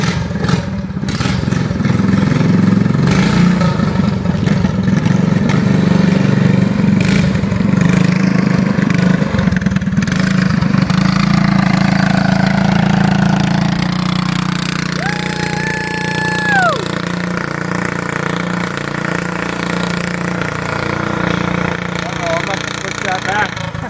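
A 1977 Honda Odyssey FL250 engine runs steadily and loudly through the whole stretch, a continuous close mechanical drone with clattery texture, while voices talk over it.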